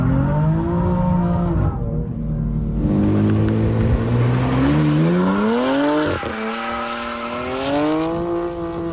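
A car drifting through a corner in the racing game Assetto Corsa, its engine whining and revving in rising and falling sweeps with tire squeal as it slides, loud and continuous with no talk.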